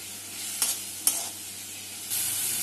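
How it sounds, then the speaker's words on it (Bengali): Garlic paste and spices fry in oil for masoor lentil dal, with a quiet sizzle broken by two sharp spoon-stirring clinks early on, then a louder, brighter hiss swelling near the end. "1/2 চামচ রসুন বাটা দিয়ে এটাকে ভালো করে কষিয়ে নেব"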